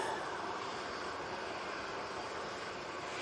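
An airliner taking off for Murcia sends a constant, distant jet roar, even and unbroken, with no one speaking over it.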